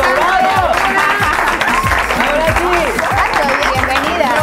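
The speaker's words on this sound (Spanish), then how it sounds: "¡El aplauso, vamos!" Studio audience applause welcoming guests on an Argentine sports TV show, a dense continuous clapping bed with music and voices running over it throughout.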